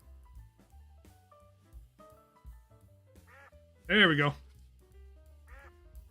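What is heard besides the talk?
Twitch notification alert sound, a duck quack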